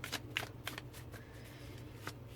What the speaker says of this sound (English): And I'll pull out a card for this one.